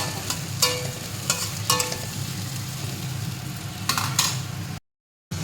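Chopped tomatoes and thinned green chili paste fry in hot oil, a soft continuous sizzle broken by a few sharp spatula scrapes and stirring bursts, then a brief cut to silence near the end.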